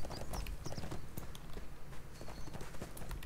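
Video game horse hooves clip-clop in a steady trotting rhythm in ArcheAge, crisp and close, with no talking over them.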